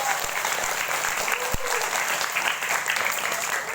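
A school talk show audience applauds a guest, a former head of the Samboja education office, with steady, dense clapping filling the room throughout, a few sharper claps and faint voices mixed in.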